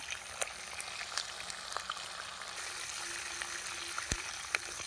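Urad dal, mustard seeds, cumin and curry leaves fry in a generous amount of oil for a tempering, giving a soft, steady sizzle with faint crackles and pops throughout, no talking.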